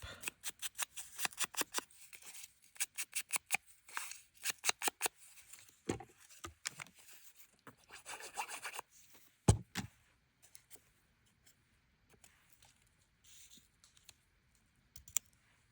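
A sheet of paper rustles and crackles up close in quick bursts, with a sharp tear about two-thirds through, then faint scattered handling noises before the sound trails off.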